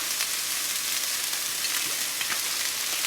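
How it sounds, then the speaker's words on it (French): Onions fry in olive oil in a pan, giving a steady, close sizzle and crackle with a few faint stirring scrapes. "vous faites rissoler vos oignons"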